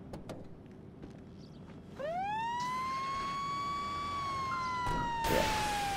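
A fire engine siren from GTA 5 rises in a steady wail at about two seconds and holds loud and close to the end, with no talk over it.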